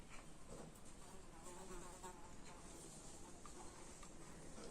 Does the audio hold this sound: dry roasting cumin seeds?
no